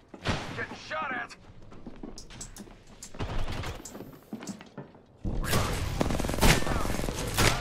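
Gunfire in an online shooter video game, with bursts of shots and impacts throughout and a loud, dense barrage near the end, under excited voices of players talking.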